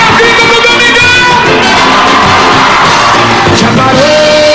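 A loud television studio audience yells and cheers together on cue during a live variety show broadcast with a pagode band, a dense, continuous crowd roar with music underneath.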